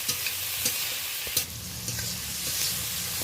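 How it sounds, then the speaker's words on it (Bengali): Onion and tomato fry with salt in a pan while being stirred, a steady close sizzle overlaid by repeated scraping and tapping strokes of a spatula. "লবণটা দিয়ে পেঁয়াজ আর টমেটোটা ভালো করে নেড়ে নেব"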